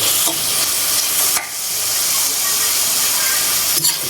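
Small fish and ingredients stirred in a frying pan, with a loud, steady hiss of frying and bursts of sizzle as the spoon scrapes and turns the food.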